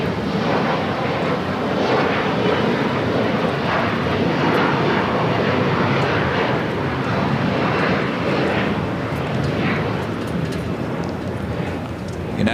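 A SkyWest E175 jet, United Express flight 5247 to Monterey, roars steadily and loudly at LAX. The broad engine noise holds continuously for the whole stretch.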